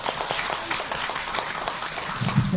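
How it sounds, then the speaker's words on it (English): Audience applause at an evening event introducing a speaker, a dense, steady wash of many hands clapping that holds evenly throughout, with a murmur of voices at the end. "Give her a hand clap"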